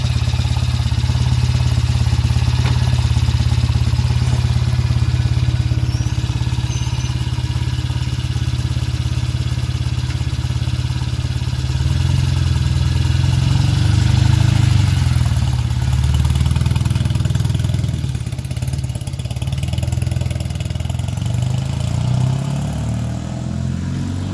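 A 1975 Norton Commando Mk3 motorcycle engine idling close by with a steady low throb and mechanical clatter, holding even throughout with slight fluctuations in pace.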